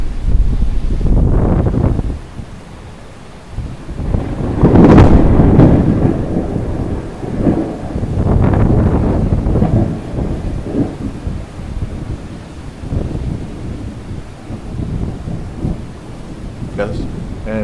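A violent early-morning electrical thunderstorm with repeated rolling thunder over steady rain and gusting wind buffeting the microphone, loud and close throughout.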